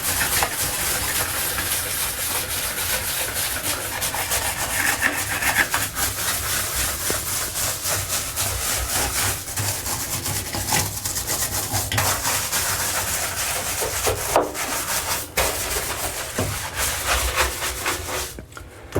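A towel brush scrubbed steadily over bathroom fixtures, a continuous rough rubbing hiss with uneven strokes and occasional knocks, fairly loud and close with no talking.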